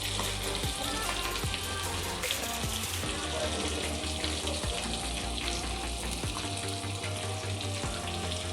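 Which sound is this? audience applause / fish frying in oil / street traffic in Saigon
fish frying in oil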